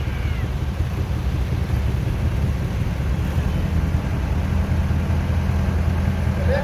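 A John Deere 3050 six-cylinder tractor at a steam and vintage show runs with a steady low engine rumble, continuous and fairly close, with no talk over it.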